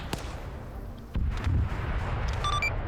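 Gunfire in a military video game: a sharp distant crack followed by a heavier booming report and a low rumbling tail, all fairly faint.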